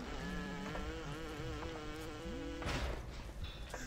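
A hacked security drone in BioShock buzzing with a steady insect-like whirring hum and wavering pitch, close and continuous, with a brief mechanical clatter near the end.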